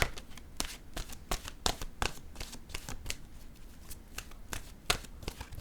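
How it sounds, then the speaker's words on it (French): Oracle cards being shuffled by hand, a quick run of crisp riffling bursts and soft slaps repeating steadily, close and fairly quiet with no voices. "Je vais piger maintenant une carte de mon oracle de l'âme intuitive."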